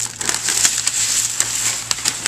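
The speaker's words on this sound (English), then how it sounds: "I'm going to grab the edge here and peel off the cello" Clear cello laminate film peeled by hand off a mounted print from a Xyron 2500 laminator, giving a steady crackling, sticky tearing hiss with sharp little snaps throughout, close and alone.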